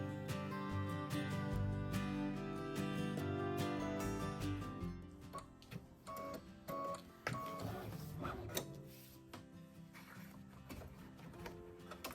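Embroidery machine stitching through vinyl and stabilizer for a zipper pouch, giving a quiet, rapid mechanical whir and ticking that speeds and pauses irregularly, faint and close with no talk.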